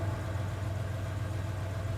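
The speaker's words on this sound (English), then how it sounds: "I hear the sound of an engine revving outside." A truck engine in the video game 428: Shibuya Scramble rumbles low and steady, fairly faint, with no voices.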